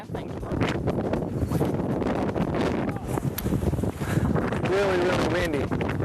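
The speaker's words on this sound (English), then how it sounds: "Really, really windy. Wind gust up to 35 miles an hour" Strong gusts of wind buffet the microphone on a lake during a bass fishing outing, a loud continuous roar broken by a few short dips, with faint bird calls near the end.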